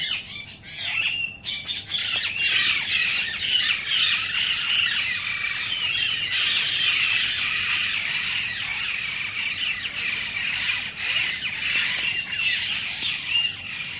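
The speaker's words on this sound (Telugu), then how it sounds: "కోతి మీదికెక్కింది పక్షులన్నీ అరుస్తున్నాయి" A flock of birds squawks and screeches at a monkey that has climbed up among them, a loud, dense, continuous chorus of harsh calls lasting the whole stretch with no talking.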